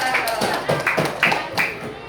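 A small group of primary school students claps for a classmate in a classroom, with a handful of distinct, uneven bursts of claps close by and voices in the background.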